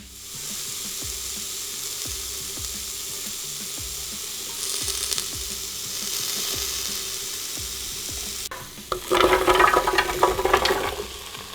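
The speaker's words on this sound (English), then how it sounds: "So that's the rest of the vegetables in there, and they've just been sauteing off for a short while." Vegetables sauté in a Morphy Richards soup maker, a steady low sizzle with a regular mechanical pulsing underneath, then a burst of louder crackling and stirring near the end, close and without talk.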